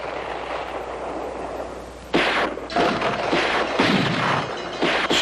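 Artillery piece firing in a Civil War setting: a loud, sudden blast about two seconds in, followed by rolling rumbling echoes and a second heavy burst after a quieter lead-in of ambient noise.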